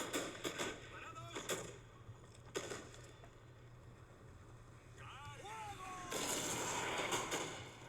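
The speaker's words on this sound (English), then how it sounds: "the power of my artillery manages to kill a good 10 of them" Artillery fire in the Empire Total War video game: several sharp booming shots early on, spaced apart over a steady battlefield ambience, with a brief tonal bleat-like sound and a louder burst of noise near the end.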